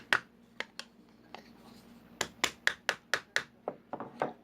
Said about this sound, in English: I have a thinner block of wood, and I can lay it right in here and tap it a little bit just to tighten